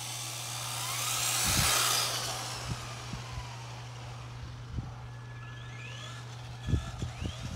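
Traxxas 4Tec 2.0 RC cars drag racing in the evening, a high electric motor whine rising and passing by at moderate distance, over a constant low hum, with a few light knocks and thumps afterward.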